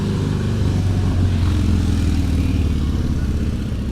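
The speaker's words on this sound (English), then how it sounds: "We are outside, so you're going to hear some motorcycles." A motorcycle engine rumbles steadily nearby, a loud continuous drone that holds for a few seconds.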